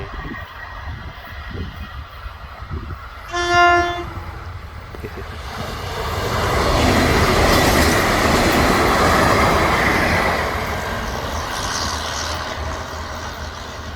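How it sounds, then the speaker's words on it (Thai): Two Thai passenger trains, numbers 517 and 418, passing each other on the railway line near Ban Phai; a short horn toot sounds, then the rumble and clatter of wheels and cars swells loudly and slowly fades. "ไปแล้วครับขบวน 418"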